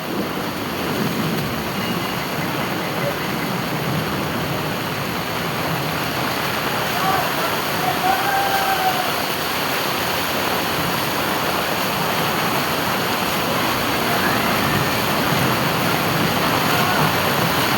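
Heavy rain and floodwater rush steadily through a street in Surat's Matawadi area, a loud, unbroken wash of water noise with faint voices in the background.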